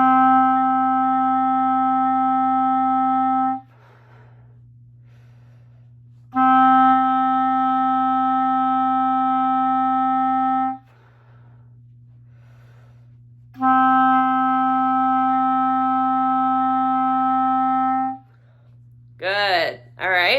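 A clarinet holds a single steady D three times, each lasting several seconds, with short pauses between, close and clear.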